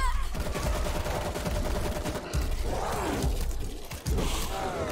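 Rapid bursts of gunfire hit zombies in World War Z, loud fusillades of shots that crack over chaotic game noise, broken by a brief lull, while players talk over the action.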